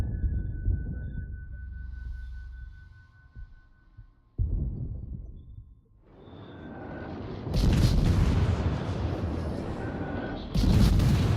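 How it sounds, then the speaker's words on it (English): Armor-piercing naval gunfire in World of Warships from the destroyer IJN Harekaze, heavy booming salvos with rumbling low decay, then louder broadband blasts near the end. "So I'm firing AP right now at his superstructure."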